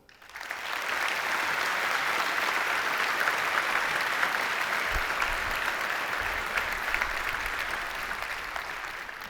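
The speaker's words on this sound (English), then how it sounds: "Let's all applaud them." Sustained applause from a large audience at the EVE Fanfest 2012 gaming convention, a dense steady wash of clapping that swells quickly and holds loud for about nine seconds before easing slightly.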